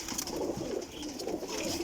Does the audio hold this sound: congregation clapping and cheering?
no